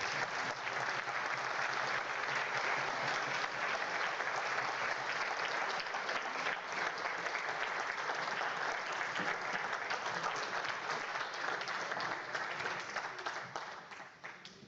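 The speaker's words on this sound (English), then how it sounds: "Give the team applause." Sustained audience applause for the Electric Superbike Twente team on stage at a design reveal, dense and steady clapping filling the room for about fourteen seconds before tapering off at the end.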